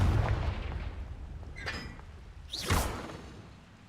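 Confringo explosion spell in the video game Hogwarts Legacy: a booming blast fades into whooshing streaks and a second rising burst with a crackling tail, loud and alone.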